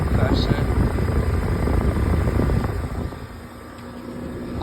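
A 2007 1.5-ton Trane XL14i heat pump with a Climatuff compressor runs in heat mode, giving a close, steady fan-and-compressor drone that eases slightly toward the end while someone talks over it.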